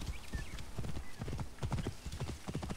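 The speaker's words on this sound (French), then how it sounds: "on va prendre le cheval" Horse hooves clip-clop in Assassin's Creed Origins, a steady, quick, close trot of hard hoofbeats carrying on through the whole stretch with no talk over it.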